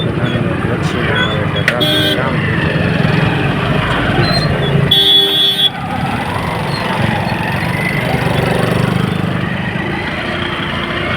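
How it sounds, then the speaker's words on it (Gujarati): Congested road traffic with engines idling and several short horn toots cutting through, a longer honk near the middle, a steady loud rumble of vehicles throughout with voices mixed in. "જોઈ લ્યો તમે ટ્રાફિકમાં જમાવડો"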